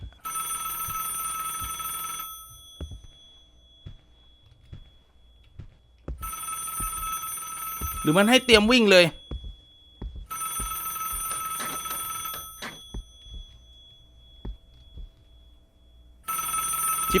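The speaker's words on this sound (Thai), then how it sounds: "ฉันก็มาเจอนายโทรศัพท์เสียงมันอยู่แถวนี้อ่ะ" Telephone bell ringing inside the Roblox horror game ALONE: bursts of loud, bright electronic rings repeat four times with silent gaps between them, and a voice talks briefly over the third burst.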